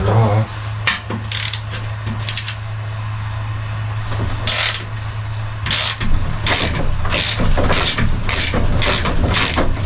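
A ratchet removes a pressure washer motor from a lawn mower, giving repeated bursts of sharp, close clicking separated by short pauses, over a low steady hum.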